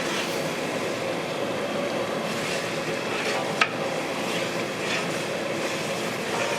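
Masala spices roasting in a pan, stirred steadily with a soft continuous sizzle and scraping, and one brief sharp clink partway through.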